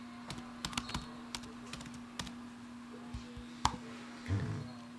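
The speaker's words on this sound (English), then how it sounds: "So I'm just going to type that information in again." Irregular clicky keystrokes tap on a computer keyboard, close and fairly quiet, with short pauses between bursts and a steady low electrical hum underneath.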